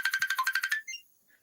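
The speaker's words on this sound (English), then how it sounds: "I'm sorry about my phone going on and off." A phone ringtone chirps in a quick run of about a dozen evenly spaced electronic pulses, then cuts off and leaves a couple of faint fading tones, bright and close with no speech.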